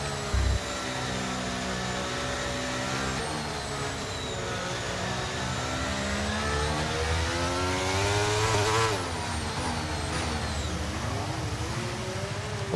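A race car in a racing video game surges on an overtake boost, its engine note sweeping upward in loud, continuous revving harmonics that climb, dip and climb again through the run.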